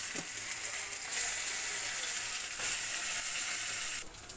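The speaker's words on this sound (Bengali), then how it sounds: "এবার ওই একই তেলে লাল লাল করে আলুগুলো একটু ভেজে নেব।" Potatoes frying in oil in a pan, a continuous soft sizzle with faint crackles and stirring scrapes, close and unaccompanied by speech.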